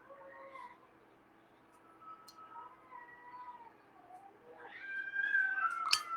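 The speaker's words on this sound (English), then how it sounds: "those are stray cats outside. If you hear howling sounds." Stray cats outdoors howl and yowl in long, wavering drawn-out cries, faint and distant at first, then growing louder and more agitated toward the end, with no talk over them.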